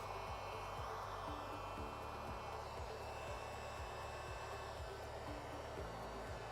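A heat gun blows steadily on a Cybertruck camera cover, giving a loud, constant airy roar with a low hum that keeps going unbroken the whole time, with no talk.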